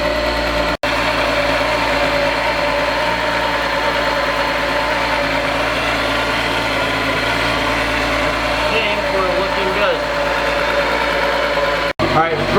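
Volkswagen VR6 engine idling smoothly, a loud, close, steady low rumble with even harmonics running the whole time, broken by two brief dropouts.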